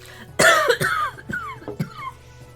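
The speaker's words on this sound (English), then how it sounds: "coughing up a lung" A burst of harsh, wet coughs, several in quick succession, loud and close, tapering into smaller hacking coughs.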